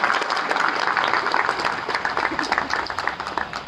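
Steady applause from a crowd at an Indian Independence Day celebration at the Indian Embassy in Nepal, many hands clapping continuously and fairly loud throughout.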